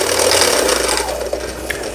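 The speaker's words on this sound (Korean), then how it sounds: "북실을 감고 있는 영상이 되겠습니다" A Brother Boutique 10 household sewing machine winds thread onto its bobbin, a steady loud mechanical whir and hum that stays fairly even, with a couple of small clicks near the end.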